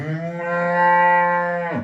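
One close, loud cow moos in a single long, steady, low call of nearly two seconds, then stops abruptly, at a farm where cattle are offered for sale.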